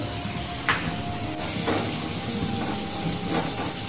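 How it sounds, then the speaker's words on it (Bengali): Potatoes frying in a pan in a home kitchen give off a steady, close sizzle with brief crackling spurts, no voices over it. "এই যে আলু ভাজা হচ্ছে"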